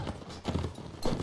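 Horse hooves clatter in a Mount & Blade: Warband battle, a rhythmic clip-clop in several close, loud bursts with no talking over them.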